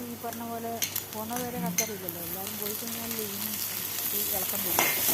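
Sliced onions and tomato fry in a pan for chapati upma, a steady sizzle running under harmonic background sounds that resemble music, with no clear talk.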